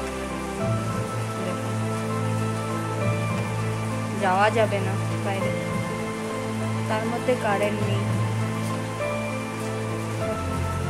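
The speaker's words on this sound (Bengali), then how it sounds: "চলো দেখে নাও বৃষ্টি, কত বৃষ্টি দেখছো, কন্টিনিউয়াস বৃষ্টি" Steady, continuous heavy rain pours down, a dense hiss filling the background while a person talks over it.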